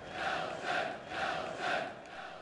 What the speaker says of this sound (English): the almost exclusively white crowd responded to Mandela's public statement of forgiveness by chanting his name